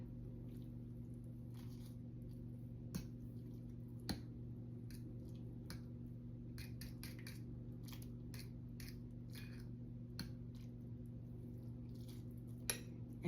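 Microwaved ramen is stirred for a minute, with faint scattered clinks and light scrapes of a utensil against a bowl over a steady low hum.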